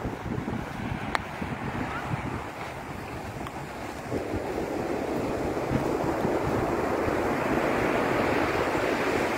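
Wind-driven sea waves roll in on a windy winter day at Alanya, a steady loud roar of surf and gusting wind buffeting the microphone that swells slightly midway through, with no talk.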